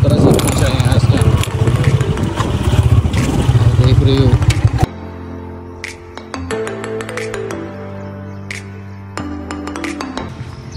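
A 125 motorcycle engine idles in a village, a loud low rumble for the first half that then drops to a quieter steady hum with clinks and voices nearby.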